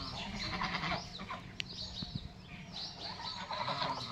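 A goat bleats several times on a farm with geese, its wavering calls mixed with clucking fowl and other farmyard noise, fairly close and steady throughout.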